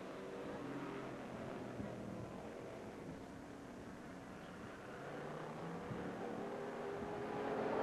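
Street stock race cars run a late-lap battle for the lead at Lake Geneva Raceway in Wisconsin, a steady distant engine roar that swells slightly toward the end, with no talk in the clip.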